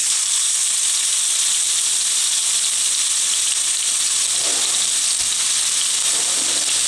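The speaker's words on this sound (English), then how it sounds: "And then we're going to go ahead and sear our steak on all sides." Steak sears in olive oil in a pan on high heat, a steady, loud, even sizzle and hiss running throughout with no talk.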